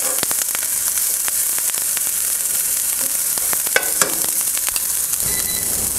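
Broccolini with garlic sizzles steadily in a hot pan, a constant crackling fry with occasional sharper pops and a stir near the end.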